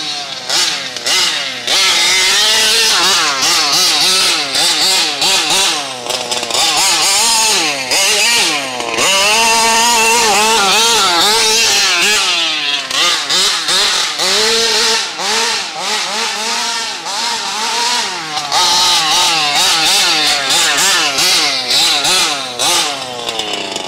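A Vekta 50cc gas-powered RC car engine driving close by, loud and buzzing as it revs up and down repeatedly with brief dips between bursts, much like a small chainsaw.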